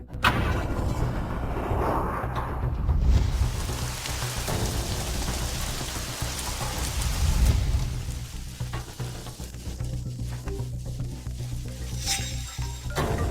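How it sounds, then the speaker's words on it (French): Heavy rain pours down onto surfaces in a thunderstorm, a dense, steady hiss of drops, while low thunder rolls and rumbles through it at a distance. Nobody speaks. "il y a du tonnerre"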